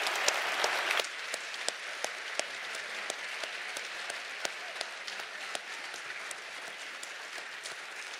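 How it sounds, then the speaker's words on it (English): Audience applause after an eclipse talk, a dense burst of clapping that thins after the first second into a lighter, steady patter of scattered claps with a few sharp individual hits, moderately distant and alone without voices. "Let's give Fred another round of applause."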